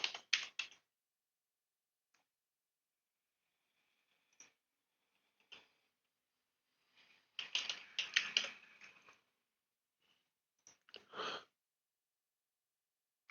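Sparse, quiet keystrokes on a computer keyboard in a quiet room, a few isolated taps and a short flurry of typing in the middle, with long silences between.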